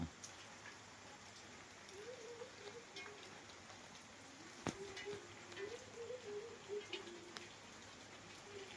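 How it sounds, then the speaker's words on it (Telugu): Steady morning rain falls and patters on a surface outdoors, a continuous soft hiss throughout with a faint voice-like murmur and a brief sharp tap midway. "వర్షం అయితే పడుతుంది"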